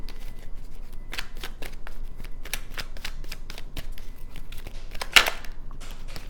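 Tarot cards being shuffled and drawn, a steady run of quick papery riffles and snaps close by, with one sharper slap near the end and no talking.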